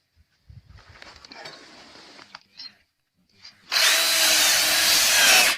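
A power tool drives fasteners through metal lathing into a timber house facade. Brief taps and handling noises come first, then a loud, steady drilling whir runs for about two seconds at the end.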